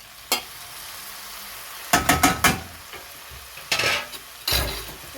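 Chopped tomatoes drop into a hot pot in a few bursts, followed by short sizzling and stirring scrapes, with quiet gaps between the additions.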